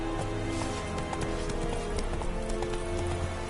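Hooves of Roach, the horse in The Witcher 3, clop in a quick repeating rhythm under a dense bed of ambient game sound and rain-like noise, moderately close.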